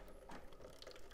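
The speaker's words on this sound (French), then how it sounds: "tu réouvres ton écrou" A wrench loosens the nut on a thermostatic radiator valve, giving a quick, faint series of ratcheting clicks up close.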